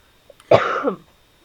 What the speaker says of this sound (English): Oh, I have a cough.